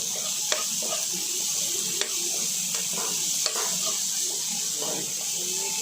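Vegetables sizzle in hot oil with chili, turmeric, salt and cumin powder, a steady close hiss with a few sharp clicks from stirring or utensils.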